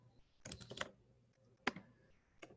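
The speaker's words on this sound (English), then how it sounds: "So I'm just gonna type it" Quiet, close keystrokes on a computer keyboard, a short cluster of quick taps followed by a couple of isolated clicks.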